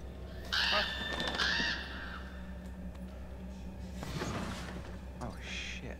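Bird calls in the horror game Until Dawn, a few brief squawking cries around the start and again near the end, heard over a low steady hum of background ambience.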